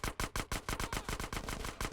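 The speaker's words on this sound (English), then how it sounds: "Headshot the driver so you can then shoot the guys, because then the car will stop." Rapid submachine gun fire in GTA San Andreas rattles out as a fast, even burst of about a dozen sharp shots over two seconds, loud and close with no talking.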